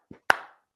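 Two isolated hand claps sound close and crisp, a soft one followed by a louder, sharper clap with a short ring-out in a quiet room.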